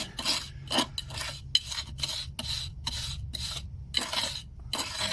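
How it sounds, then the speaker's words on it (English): Pointing tool pressing and dragging mortar into paving slab joints outdoors, a series of close gritty scraping strokes in an irregular rhythm, heard alone. "work it into there, filling up the joint, drag off the excess and move it up, push that in."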